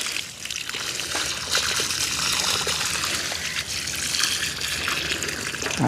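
Continuous rushing water pours steadily from a hose, a close, even splashing flow that barely changes over several seconds.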